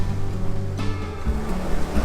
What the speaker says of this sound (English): it's extremely windy and the waves are way too big to snorkel